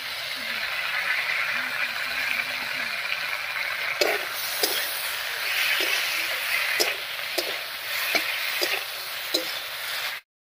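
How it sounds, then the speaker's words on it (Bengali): Ground mustard, poppy seed and green chili paste is stirred into frying cauliflower stalks and fried eggplant in a pan. A steady close sizzle runs throughout, with regular spoon scrapes and taps against the pan. "মশলাটা দিয়ে সব সবজির সঙ্গে খুব ভালো করে মিশিয়ে নিয়েছি।"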